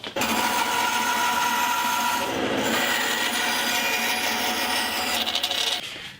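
Wood being cut for a bass guitar build, a dense continuous rasping saw noise held at close range for several seconds before stopping abruptly.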